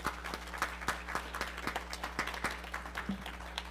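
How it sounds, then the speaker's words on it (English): Light, scattered clapping from a small audience at a church gathering, individual claps standing out in an uneven rhythm over a steady low hum. "let's give Dr. Alice, the Songbirds, and all of them a beautiful hand of applause"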